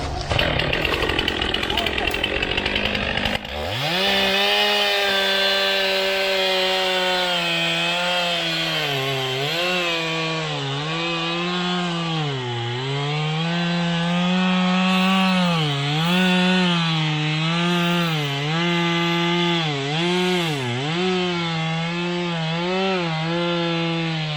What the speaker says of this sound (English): When you cut a stump from the outside